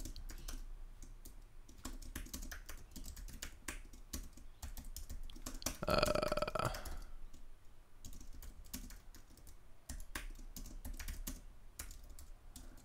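Steady typing on a computer keyboard during a live stream: a dense run of sharp clicks and key taps, with a brief louder burst in the middle, close and with no talking.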